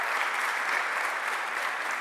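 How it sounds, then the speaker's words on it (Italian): Steady, dense applause from an audience at the announcement of Premio Strega book candidates, a continuous wash of many hands clapping at even loudness with no voices over it. "Chiederei un applauso"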